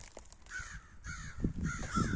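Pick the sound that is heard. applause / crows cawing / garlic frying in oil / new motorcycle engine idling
crows cawing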